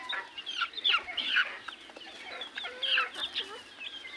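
Hens and a rooster cluck in a rapid, overlapping flurry of short calls throughout, fairly close, with no talking.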